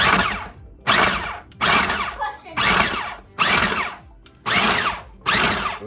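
A Cuisinart food processor pulses chunks of steak, giving seven loud, evenly spaced whirring bursts of roughly half a second each, separated by brief silences.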